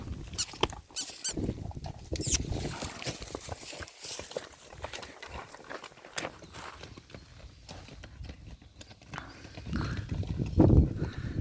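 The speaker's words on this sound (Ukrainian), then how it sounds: "Я люблю, коли то біжать, ну, біжать коні за одним." Horses' hooves clatter in a quick, uneven patter on firm ground as mares run one after another, fairly close, with scattered bumps and a louder rumble near the end.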